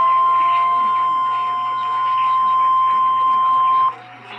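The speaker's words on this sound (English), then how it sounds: "You have just heard a test of the National Weather Service radio warning alarm feature." A National Weather Service radio warning alarm test sounds as one loud, unwavering steady tone for about four seconds over a faint broadcast voice, then cuts off abruptly.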